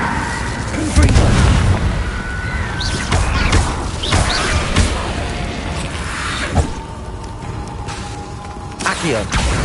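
Confringo spell blasts in the video game Hogwarts Legacy, a rapid run of booming explosive impacts and crashes layered with other spell effects, loud and close, with a voice talking over them.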